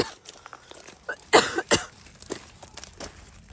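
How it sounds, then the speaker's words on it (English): A couple of short, sharp coughs stand out in a quiet setting, with faint rustling and small noises around them. "I don't like coughing on camera."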